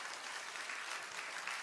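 A church congregation at a Sunday family worship service at Samyang Central Church claps in a brief, dense wash of applause, soft and somewhat distant, with no speech over it.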